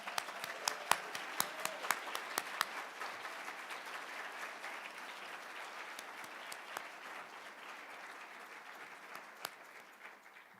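Audience at a university honors medallion ceremony applauds its graduates: a sustained wash of many hands clapping, with a few sharper nearby claps early on, holding steady for the full ten seconds before thinning slightly.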